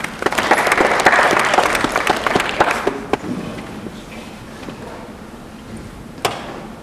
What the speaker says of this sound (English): ladies and gentlemen, a round of applause for Luke